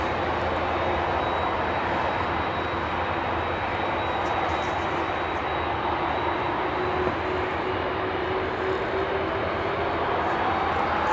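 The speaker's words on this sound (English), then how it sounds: "767-400. Look at the rake on this thing, man. Now this is CF6 powered" A Boeing 767-400 with CF6 engines departs, its jet roar loud, broad and unbroken, with a slowly shifting engine whine running through it.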